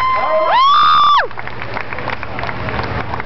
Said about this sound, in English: Give Andy Aston a nice big round of applause.